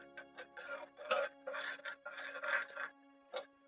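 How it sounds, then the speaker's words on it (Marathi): White and brown amaranth (rajgira) grains roast in a pan over a low flame for modak flour. Soft, quiet crackling and rasping comes in uneven bursts. "छान असा तळतळायला लागलाय आपला राजगिरा"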